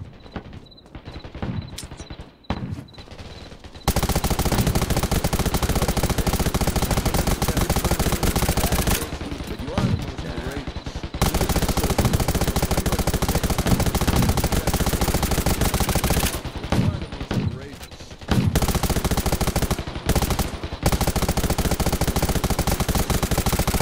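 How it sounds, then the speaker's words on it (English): Heavy gunfire in the video game Undawn: long, loud bursts of automatic weapon fire broken by short quieter gaps, dense and continuous for most of the stretch. "They're giving us really heavy fire this time."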